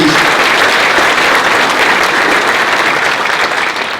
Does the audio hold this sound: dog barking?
no